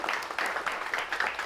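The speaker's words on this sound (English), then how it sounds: "Let's give another round of applause for Mathew Senn," Studio audience applause for a guest on a Kelowna late-night talk show, a brief steady patter of many hands clapping at moderate volume with no voices over it.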